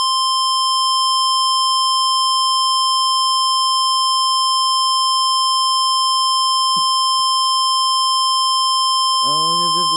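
Emergency Alert System alert tone, a loud steady electronic sine tone with high harmonics sounding continuously throughout, with brief clicks and a voice starting near the end.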